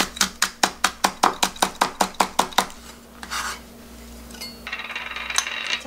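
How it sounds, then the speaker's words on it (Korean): Green onion minced with a knife on a cutting board, about fifteen quick, evenly spaced chops up close, followed by a short scrape and some quieter rustling, no voices. "대파 조금만 다져줄게요"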